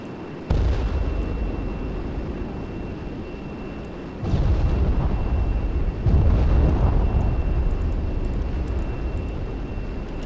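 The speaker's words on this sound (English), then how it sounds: "And here we've got bombs." A string of bomb explosions dropped by an A-10C aircraft in ArmA 3, three heavy booms at staggered intervals with long rolling rumbles between them, loud and without talk.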